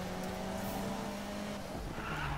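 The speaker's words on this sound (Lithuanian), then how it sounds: "Bet šitą mašiną tikrai gerai driftina." A car drifting in the Need for Speed video game, a Miata build, with a loud, continuous engine roar and sustained tire skid squeal running unbroken throughout, no voices.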